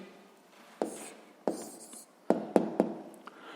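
Pen or pencil writing out a maths answer on paper, heard as a few soft scratching strokes and light taps spaced irregularly, close and fairly quiet with no talking.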